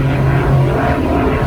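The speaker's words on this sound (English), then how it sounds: "Excuse the airplane in the background" A steady propeller aircraft drones overhead, a continuous low engine hum with a strong tonal buzz and broad rumble, moderately loud throughout.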